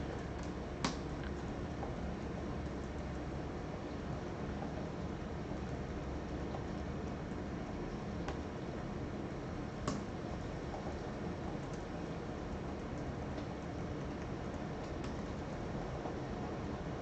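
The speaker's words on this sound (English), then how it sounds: "It's really raining." Steady heavy rain falls outside, a dense continuous hiss with scattered sharper drop impacts, moderately loud and unbroken for the whole stretch, with no voices.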